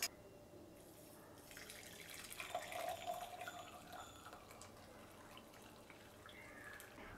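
Hot tea strained and poured into a cup, a soft, steady trickle of liquid that swells briefly in the middle before settling, faint and close with no talking.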